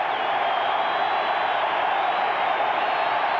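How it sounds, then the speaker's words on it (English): Stadium crowd at a 1985 San Francisco 49ers at Denver Broncos football game, a steady dense roar of cheering and noise filling the air throughout, with no clear talk over it. "You'll hear the crowd get into it."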